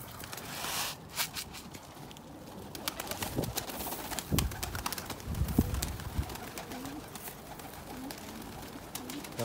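Pigeons in a bird loft at night, giving soft intermittent coos among rustling and scattered footsteps, with no talk.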